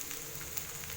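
Chopped small onions sautéing in oil in a pan for Tamil-style egg curry, a soft, steady sizzle heard alone at a low level.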